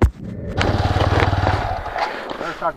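Yamaha R15 V3 motorcycle riding in a race against a TVS Apache RTR 200 4V, its engine droning steadily and close up with rev changes, wind buffeting and a voice talking over part of it.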